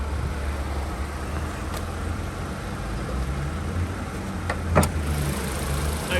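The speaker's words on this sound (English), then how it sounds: "Nice little quiet motor, not much noise at all, so that's what you really want." A 2017 Suzuki Ignis GL hatchback engine running quietly in the engine bay, a low steady hum with a few faint clicks, no one talking.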